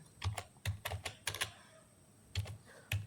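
Keystrokes on a computer keyboard while entering JavaScript code for a factorial program, heard as quick bursts of clicks, a pause, then a few more isolated taps, close and fairly quiet with no talking.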